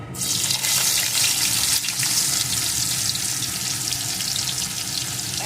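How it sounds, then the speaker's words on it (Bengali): Nigella seeds frying in hot oil: a loud, dense crackling sizzle that starts abruptly and holds steady for several seconds, close up, with no voices. "কালো জিরেটা একটু ভাজা ভাজা হলে দিয়ে দেবো একটা পেঁয়াজ কুচি"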